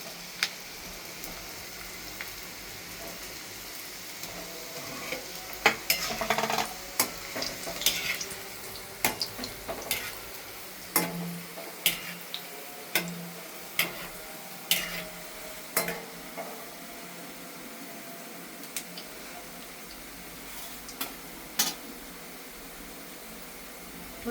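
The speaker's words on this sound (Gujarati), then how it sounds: "હવે આપણે એમાં બોલને તળી લેશું" Manchurian balls deep-fry in hot oil with a soft, continuous sizzle. Repeated sharp clinks and scrapes of a utensil against the pan come at irregular intervals, close and fairly quiet.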